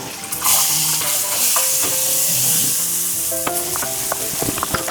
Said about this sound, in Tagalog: Tapos pwede na tayo maggisa.